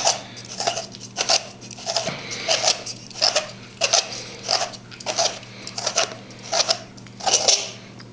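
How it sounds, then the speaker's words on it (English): The rear section of a custom Vader's Vault lightsaber hilt is unscrewed, producing a rhythmic series of about a dozen close, gritty thread rasps at an even pace. "Just need to grab it and carefully unscrew it here."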